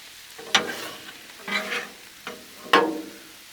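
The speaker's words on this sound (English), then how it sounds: "Give that a good stir again." Orange chicken pieces are stirred on a Blackstone griddle, making four separate scraping, sizzling strokes spaced about a second apart, each flaring briefly above a quiet hiss.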